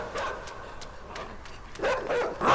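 A dog in a video game gives a few sharp, yipping barks with some whimpering, short bursts spread across a quiet background that grow louder near the end.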